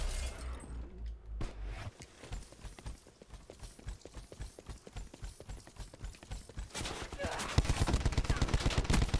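Rapid gunfire in Call of Duty Black Ops 4, a long run of sharp automatic bursts at close range, then a denser, louder stretch of shooting near the end.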